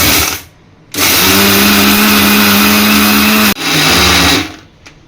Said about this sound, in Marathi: हे मिश्रण मी आता मिक्सरमध्ये वाटून घेतो